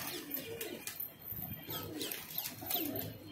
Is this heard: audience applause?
no